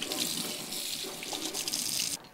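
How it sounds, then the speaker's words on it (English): Steady rush of running tap water splashing into a sink as hands are washed before preparing a flank steak marinade, continuous and fairly close, ending abruptly when the faucet shuts off. "And I'll give my hands a quick wash before we start that."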